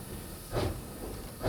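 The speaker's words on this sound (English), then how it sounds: "I'm applying a little throttle right now." Steam locomotive Engine 618 hisses softly under light throttle, with two brief puffs of steam breaking over a low, steady rumble as it eases into an engine house.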